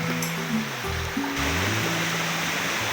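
Mini waterfalls along a canyon trail at Hinabaan give off a steady, rushing wash of falling water, even and continuous from start to finish.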